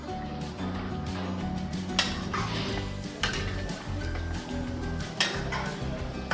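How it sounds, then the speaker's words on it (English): Marinated rabbit heads being stirred in a pan over low heat, with a metal utensil scraping and clinking against the cookware in an irregular rhythm over a steady low background. "Introduce the freshly marinated rabbit heads and gently stir over low heat."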